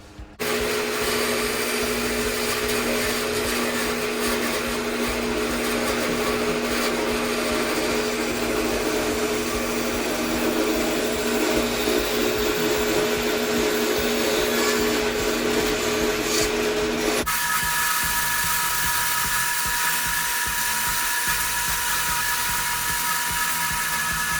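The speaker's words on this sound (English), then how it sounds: "we'll go to the saw, the bandsaw, and cut it out" A bandsaw cuts out a wooden toy dragon pattern, its steady motor whine and blade hum running loud and unbroken, with the pitch shifting near the end as the cut changes.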